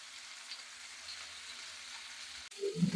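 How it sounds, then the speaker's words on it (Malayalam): Kingfish with curry leaves in hot oil for a Kerala fish biryani: a steady, fairly faint sizzle throughout, with a louder crackle and bubbling surge near the end as something drops into the pan. "നമുക്ക് കറിവേപ്പില ഇട്ട് കൊടുത്തിട്ട് മീനിട്ട് കൊടുക്കാം."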